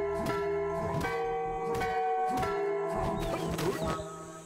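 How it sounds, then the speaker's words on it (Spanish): A bell struck several times in the video game Yaga, ringing out in spaced clangs with lingering metallic overtones over steady background music, the strokes growing busier toward the end. "Voy a tocar la campana."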